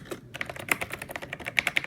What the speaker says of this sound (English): Keys sound good.